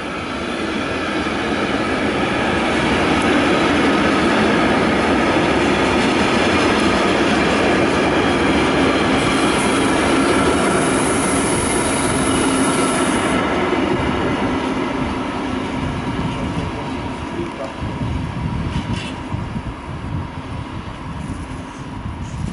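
At Łowicz Główny station on a gloomy, rainy day, a train rumbles steadily past, with loud continuous rolling wheel noise and clatter that swells and then eases slightly as it goes by.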